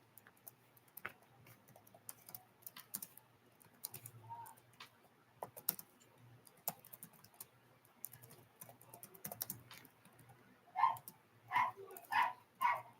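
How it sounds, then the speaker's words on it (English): A dog barks indoors, at first as faint, scattered sounds under keyboard typing and clicks, then as four loud, evenly spaced barks close by near the end. "My dog's barking."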